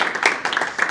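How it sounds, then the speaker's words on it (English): An audience at an on-prem data lakehouse meetup claps for a speaker: a short, fairly close burst of scattered applause with a few sharp individual claps. "give Brenna a round of applause"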